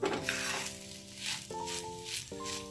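Patishapta batter frying on a hot tawa over low heat, a soft steady sizzle with a sustained tonal hum in the background.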